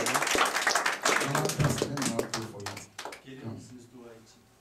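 A church congregation claps during a prophetic worship service, brisk uneven clapping mixed with voices and shouting, easing off near the end.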